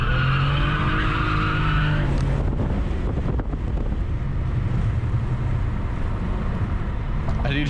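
Cadillac CT4-V Blackwing drifting on a mountain road, with a loud, continuous tire squeal and roaring engine heard from inside the car, blended with heavy wind noise throughout.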